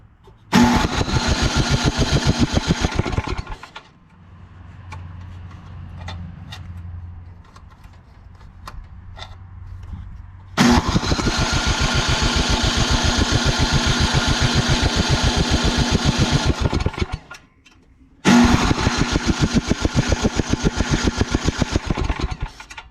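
A Craftsman 27-inch two-stage snowblower engine with starting trouble cranks in three long, loud bursts, with a quieter idling-like stretch between the first two attempts and brief silences between.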